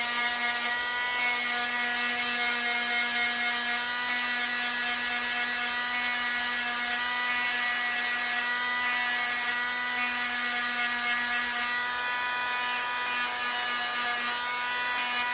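A steady, high-pitched whine from an oscillating sander with a triangular pad sanding an axe wedge, with a constant buzzing drone, running continuously and fairly close without pauses.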